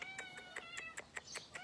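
Several short cat meows in a quick, uneven series, fairly close and clear, with no talking.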